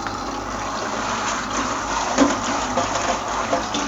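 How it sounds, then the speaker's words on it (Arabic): Water runs steadily from a tap for rinsing during a cleaning test, a constant close splashing flow with no break across the whole span. "هنفتح الميه"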